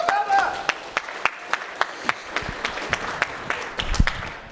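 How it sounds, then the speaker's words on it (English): An audience at the Wild West Hacking Fest hacking conference in San Diego claps in a steady, evenly spaced rhythm, moderately loud, after a brief voice at the start. "Round of applause for Velda."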